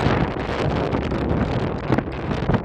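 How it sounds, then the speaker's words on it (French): Strong gusting wind buffets the microphone on the summit of the Puy-de-Dôme, a continuous loud roar with brief surges, and no other sounds stand out. "Il y a beaucoup de vent, comme vous pouvez entendre."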